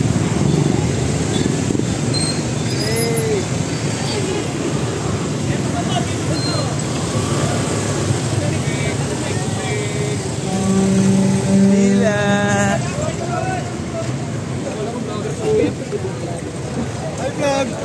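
Busy street traffic in Biñan, Laguna during a walking pilgrimage, with many motorcycles and tricycles droning and revving close by in a continuous roar, a horn sounding briefly, while people talk over it.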